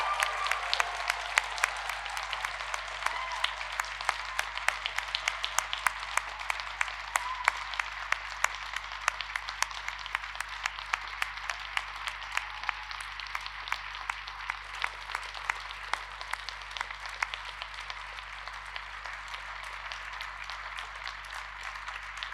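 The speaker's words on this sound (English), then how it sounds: "let's give this amazing group of people one last huge round of applause" A large hall of guests at a Milton Keynes university degree ceremony gives graduates a long, sustained round of applause, with thick, even clapping holding steady for over twenty seconds over a faint low hum.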